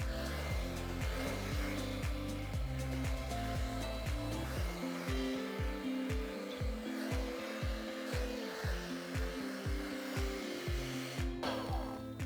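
A hair dryer blow-dries fine bob hair in a steady, loud, continuous whoosh, its airflow pulsing rhythmically as the brush rolls and twists the hair, with a click near the end.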